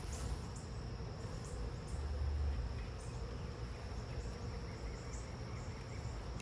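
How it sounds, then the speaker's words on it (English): Honey bees swarm around an open hive during a mid-June inspection of new hives, giving a steady, dense buzzing hum that holds at an even level throughout, with no talk. "these bees are all over where that queen was just at"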